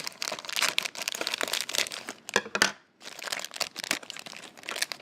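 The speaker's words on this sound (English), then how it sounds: "inside of here, I'm going to use scissors, just because that will speed things up quite a bit" Scissors snip and crinkle through plastic toy packaging for a Disney Happy Places Rapunzel and Belle set, a close run of crisp crackling cuts with a brief pause midway.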